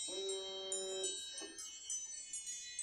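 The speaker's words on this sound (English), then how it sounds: "the bell has rung" Electronic bell tone ringing in a school district meeting room, a sustained pitched chime that steps through several notes, moderately faint and heard alone.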